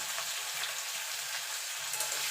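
Bitter gourd frying in hot oil with a little turmeric and salt, a steady close sizzle with faint stirring scrapes underneath, no voices.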